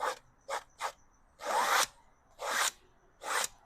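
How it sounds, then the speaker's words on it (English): A tool scrapes hard across a painted canvas to strip the paint off, giving a series of short rasping strokes followed by longer, louder scrapes with pauses between them, close up and with no talking. "You can probably hear how hard I'm scraping the canvas."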